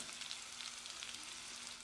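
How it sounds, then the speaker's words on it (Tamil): Chopped onions, fennel seeds and curry leaves sauté in oil for a Chettinad chicken gravy, giving a steady, close hiss and crackle of frying with no talking. "வெங்காயத்தை நல்லா செவந்து வர அளவுக்கு வதக்கிடலாம்."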